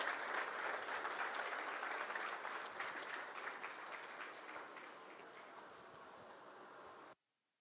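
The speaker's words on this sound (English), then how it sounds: "A round of applause till he gets to the podium." Audience applause in a conference hall at an entrepreneurship talk as a speaker walks to the podium: steady, dense clapping from a large crowd, loud and sustained, gradually thinning before cutting off abruptly.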